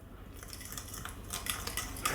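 Utensil scraping and clinking against a bowl while stirring a seasoned mixture for an Italian-style potato galette, soft irregular taps close by with no talking.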